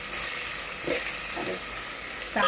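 Onions with garam masala sautéing in a pan for a spicy chicken dish, a continuous frying sizzle with a few soft stirring scrapes and a louder clatter at the end.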